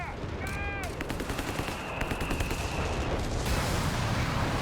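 A red phosphorus artillery barrage in the strategy game Company of Heroes 3 lands amid a busy battle as dense bursts of rapid gunfire and blasts, fairly loud and continuous.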